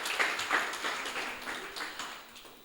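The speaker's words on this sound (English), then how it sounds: "A round of applause for Latir Kha." Audience at a poetry slam applauding the creative director, steady moderate clapping from a modest crowd heard at some distance.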